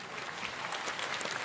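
A comedy audience claps steadily through a short stretch, the spatter of many hands dense and moderately loud with a faint crowd murmur beneath and no voice on top.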